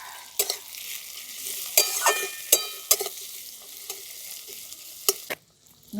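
Chopped tomatoes and four green chillies sizzle in a hot pan, with a steady frying hiss broken by several sharp scrapes of a spatula stirring, close and alone without talk.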